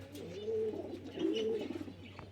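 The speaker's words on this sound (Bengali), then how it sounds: "আর এই ভিতরে কিছু পায়রাই খাচ্ছে, ঘুরছে।" Pigeons in a loft, some feeding and moving about, give two rounded cooing phrases close by over a steady low hum, with faint rustling in between.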